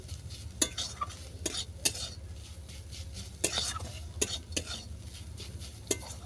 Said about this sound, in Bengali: দেখো সমস্ত উপকরণ ভালো করে কষানো হয়ে গেছে